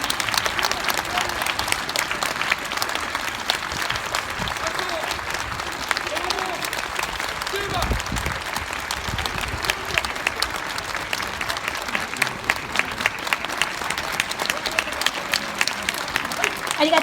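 Sustained audience applause for the Kyoto Ryoyo High School brass band at the Rohm Square concert, dense steady clapping throughout with some voices mixed in.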